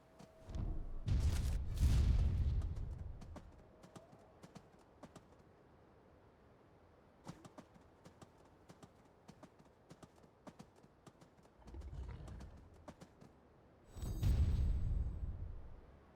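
A reindeer mount's hooves trot in Skyrim, a steady rhythmic clip-clop of soft hoofbeats running through the clip, with louder rumbling bursts at the start and end and faint bird coos in the background.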